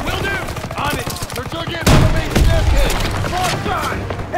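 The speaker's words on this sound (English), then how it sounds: "MG's on the stairs!" Machine gun fire rattles in Call of Duty WW2 gameplay, with loud rapid bursts and a heavy boom partway through, mixed with shouting voices and battle noise.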